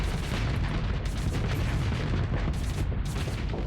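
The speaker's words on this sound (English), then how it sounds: "we want the assault chain gun to do its thing" An assault chain gun fires continuously in the space combat game Starsector, producing a dense, unbroken roar of rapid booming shots that stays loud and even throughout, with no talking.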